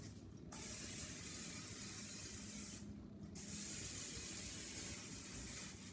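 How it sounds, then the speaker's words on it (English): Steady aerosol spraying of cooking oil onto a pot hisses in two long bursts separated by a short pause, close and fairly loud. "You gotta season it, spray it, so we'll do that."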